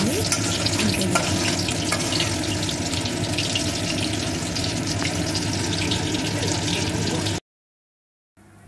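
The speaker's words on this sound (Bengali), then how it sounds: "দেখো দুদিকটাই আমার ভাজা হয়ে গেছে লাল লাল করে।" Capsicum chops shallow-frying in hot oil give a loud, steady sizzle and crackle, carrying on evenly for about seven seconds before cutting to silence.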